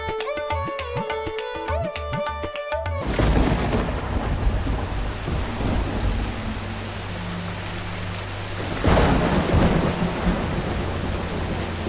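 After a few seconds of music, a heavy thunderstorm with pouring rain and hail takes over: a dense, loud hiss of rain with deep rolling thunder swelling twice, and no voices.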